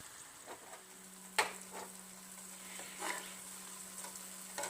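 Garlic cloves fry softly in oil in a pan, a faint steady sizzle with a few clinks and stirring scrapes, a steady low hum underneath, and no speech.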